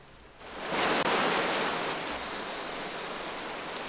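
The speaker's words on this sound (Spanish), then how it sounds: "En ambiente podemos poner, por ejemplo, lluvia." Steady rain sound effect pours down, swelling quickly to a loud, even hiss that continues unbroken.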